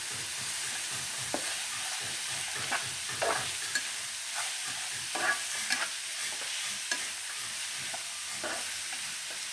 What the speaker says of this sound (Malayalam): ഇതിൻ്റെ കൂടെ തന്നെ ഞാൻ കുറച്ച് തേങ്ങാക്കൊത്ത് കൊടുത്തിട്ടുണ്ട് കേട്ടോ. ഇതിലോട്ട് മുരിയാനായിട്ട് ഇട്ട് കൊടുക്കുന്നുണ്ട്.